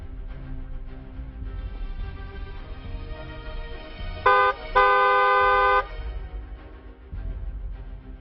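A car horn gives a short honk, then a longer sustained blast, standing out over a low background rumble of traffic.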